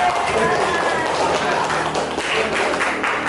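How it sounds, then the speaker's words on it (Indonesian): Classroom applause from a group of students, a steady wash of clapping lasting the whole moment, fairly loud and close with some background voices mixed in. "Tepuk tangan Bapak-Bapak."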